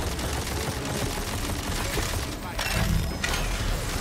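Gunfire in Tiny Tina's Wonderlands, a steady clatter of rapid shots in a chaotic boss fight against a spore-covered enemy, dense and continuous with a few sharper bursts, alongside speech.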